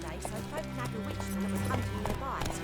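Roach, the horse in The Witcher 3, clip-clops along in a quick steady trot of hoofbeats under game music, with a voice speaking over it.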